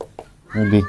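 A short meow rises after a brief spoken word, fairly close and clear, with a faint earlier cat-like squeak.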